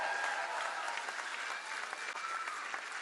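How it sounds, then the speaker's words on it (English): Sustained crowd applause at a Labour Party election campaign rally in Pudsey, UK, a dense, even wash of many hands clapping close and loud throughout, with no pauses or speech on top. "Let's give a big round of applause for the next Labour MP for Pudsey"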